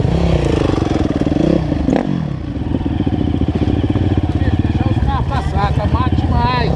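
A Yamaha YZ dirt bike engine buzzes and revs close by on an off-road trail in a steady, rattling drone, with people talking over it.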